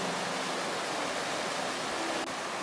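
A milky, fast-flowing river rushes close by, a steady even hiss of moving water with no other sounds.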